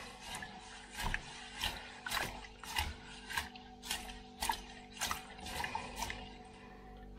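Horsetail is stirred into 5 litres of water, with a steady series of sharp sloshing and clacking strokes at a regular, unhurried rhythm. The sound is close and moderately loud, with no voices.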